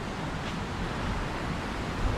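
Strong wind buffeting a rooftop hotel pool on level ten above Scarborough Beach in Western Australia, a steady loud rushing roar with no letup.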